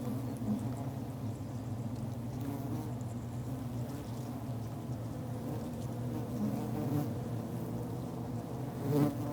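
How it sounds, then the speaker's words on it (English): Wild honey bees buzz densely around their hive, a close, continuous drone of many wings that stays steady throughout, with a few louder passes near the end. "When they return, these forager bees brush off the pollen."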